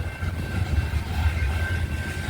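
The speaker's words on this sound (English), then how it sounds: "Saw this train coming." Approaching freight train with distributed power units, a steady low rumble with a faint sustained tonal whine, moderately distant and continuous, no voices present.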